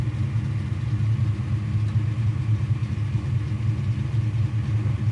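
A 1955 Chevy engine idles steadily with a deep low rumble, close by and alone, with no talk over it.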